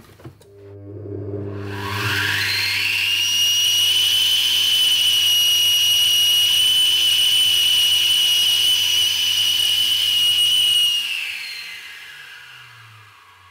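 A flowbench blows air through Audi S4/RS4 cylinder heads, spinning up over two seconds into a loud, steady whine with a high whistling tone, holding for about nine seconds before winding down, a low hum beneath.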